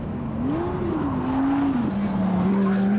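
Lamborghini Gallardo pushed hard on a track with cold tyres, a sustained wavering squeal over a steady engine drone, loud and close with no talk.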